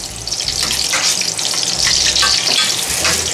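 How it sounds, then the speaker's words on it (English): Half a large onion sizzles in hot oil in a pan over high heat, a loud, steady hiss and crackle with brief scraping stirs, close by and without talking. "The oil is now hot, and I'm going to start by putting half a large onion."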